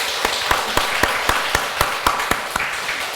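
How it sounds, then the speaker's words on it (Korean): Applause from a church congregation at a baptism service, a dense wash of many hands with regular louder single claps standing out in a steady rhythm, close and continuous throughout. "박수 한번 해주세요."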